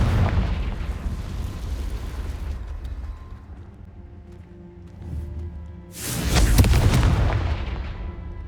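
Confringo blasting spell in Hogwarts Legacy: a loud booming explosion opens, rumbling decays, then a second powerful blast bursts around six seconds and rolls on, with no voice over it.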